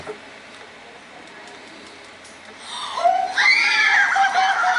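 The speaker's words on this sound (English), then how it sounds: "Why did they scream?" People scream and shriek loudly in a spooky outdoor encounter, rising suddenly after a quiet stretch and holding as a high, wavering cry near the end.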